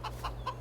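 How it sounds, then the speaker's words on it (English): A chicken clucks close by in four quick, evenly spaced clucks over a steady low hum. "We got a runaway chicken."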